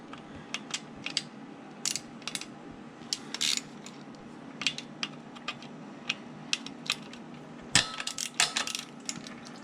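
Two 8 mm bolts come off the oil filter cover of a 2020 Kawasaki KX450, heard as quiet, close metallic clicks, ratchet ticks and small taps scattered irregularly over a faint background.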